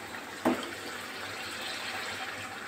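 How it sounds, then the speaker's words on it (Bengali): Hot water poured into a pot of Bengali duck curry, a sudden splash followed by a steady broadband rush of liquid filling the pan, close and moderately loud with no talking. "এবারে দিয়ে দেব গরম জল দিয়ে সেদ্ধ হতে দিচ্ছি।"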